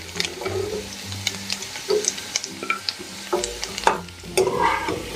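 Potatoes lightly frying in oil in a pan, a continuous soft sizzle under repeated clinks and scrapes of a spoon stirring, close and moderately loud with no talk.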